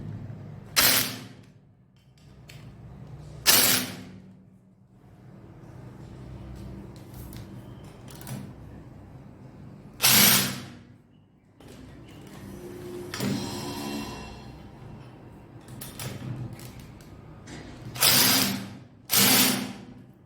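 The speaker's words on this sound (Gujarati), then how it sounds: "આ બોલ ટાઈટ કરવા છે" A ratchet tightens bolts while an LED light fitting is being installed, giving several sharp loud bursts of clicking spread across the stretch, separated by quieter handling noise and little talk.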